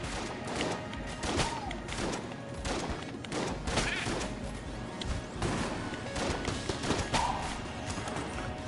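Dense, rapid gunfire from the video game Enter the Gungeon, with multi bullets ricocheting: steady crackling volleys and thuds under a busy game soundtrack, continuous and fairly loud.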